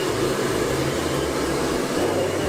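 A hair blow dryer runs continuously, drying freshly washed and treated dreadlocks. It gives a loud, steady whooshing roar with a low hum underneath, close to the microphone, with no voices.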